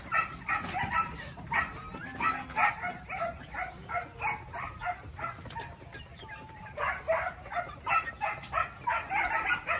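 Dogs bark and yip repeatedly at close range in a steady, rhythmic series, with a brief pause midway before the barking resumes.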